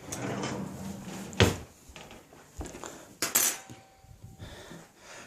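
A fork clatters against a small container and other utensils during egg prep for ramen, with a sharp metallic clink near 1.4 s and a second cluster of clatter around 3.3 s, close and fairly loud in a quiet kitchen.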